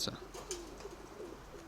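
A dark-coloured racing pigeon coos softly in a loft, a few low throaty coos repeating at an easy rhythm, close but faint, with a couple of brief sharper sounds at the start.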